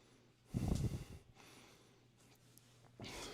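Heavy, effortful breathing from dryland speed skating exercise, a loud burst of huffing and puffing near the start and again at the end, with quieter breaths and a steady low hum between.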